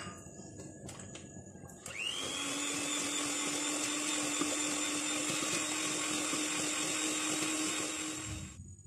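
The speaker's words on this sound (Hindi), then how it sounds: "इसमें अब हम ये कैस्टर शुगर डाल देंगे और कैस्टर शुगर के साथ मक्खन को बहुत अच्छी तरह से बीट" Electric hand mixer beating butter with caster sugar for vanilla biscuits, switching on after a couple of seconds of quiet clatter into a loud, steady whirring drone that runs unbroken, close up, until it cuts off near the end.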